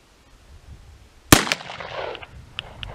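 A single sharp gunshot cracks out during a barrel length and velocity test, then echoes and trails off into a quiet outdoor background with a few faint clicks.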